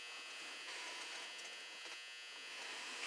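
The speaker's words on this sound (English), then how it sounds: "Sorry, that's my dryer." A clothes dryer running indoors, a steady broadband whirring hum with a faint tonal buzz, constant and moderately quiet throughout, with no speech.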